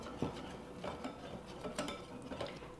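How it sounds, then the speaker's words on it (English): Gluten-free pizza dough being stirred after unsweetened applesauce is mixed in, giving a few soft scraping, clinking strokes against a bowl, close and moderately quiet, with no talking. "Stir that in."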